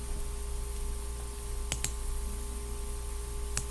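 A few sharp clicks from a computer keyboard as someone types into a search bar, sparse and quiet against a low steady hum.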